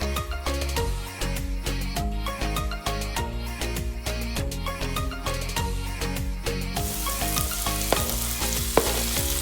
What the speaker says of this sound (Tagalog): Heat the oil in a pan, then saute garlic and onion